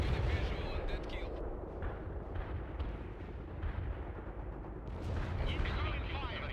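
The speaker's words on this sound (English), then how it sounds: "Incoming fire." Incoming artillery fire in the World in Conflict video game, a steady loud barrage of booming blasts and rumbling explosions that swells again near the end.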